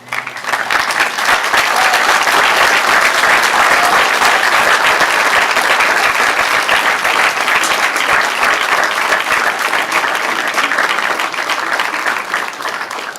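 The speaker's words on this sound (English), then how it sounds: "give your parents and other family members and friends, and also St. Mark's faculty and staff, a round of applause" A big crowd applauds loudly and steadily at a school prize day ceremony at St. Mark's School, the dense clapping rising quickly and continuing unbroken for many seconds before easing slightly at the end.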